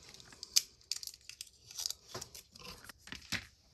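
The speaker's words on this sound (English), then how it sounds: "Take this dirty tape off." Dirty tape being peeled off an Xbox controller, heard as a quiet run of crisp crinkly rips and tearing snaps in irregular bursts, close up with no talking.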